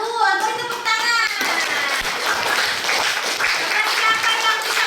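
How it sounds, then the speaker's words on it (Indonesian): Classroom clapping from students during a lesson, brisk and continuous for several seconds, with a teacher's voice speaking briefly at the start. "Bagus, beri tepuk tangan."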